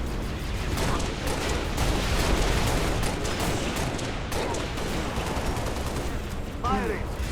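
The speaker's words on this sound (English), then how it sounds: "I'm under fire. Open fire." Sustained automatic gunfire and dense volleys of weapons fire during a Halo: Reach campaign battle, loud and continuous throughout with a few sharper bursts near the end.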